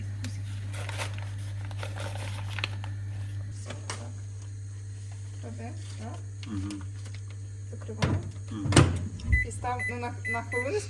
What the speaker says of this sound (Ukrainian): Зараз буде експеримент приготування попкорну в мікрохвильовці.